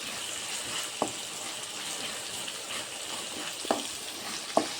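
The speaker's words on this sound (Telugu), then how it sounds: "ఇప్పుడు ఇందులోకి అల్లం పేస్ట్ వేసుకుందాం. వేసుకొని ఒకసారి మొత్తం కలిసే వరకు కలుపుకుందాం." Ginger paste is stirred into a frying fish curry base, a soft steady sizzle under a few sharp taps of a spoon against the pan, quiet and close, with no talking.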